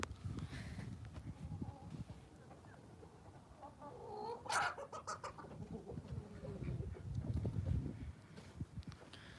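Chickens cluck and murmur in soft, irregular bursts, with a brief louder squawk partway through, set against quiet farmyard background.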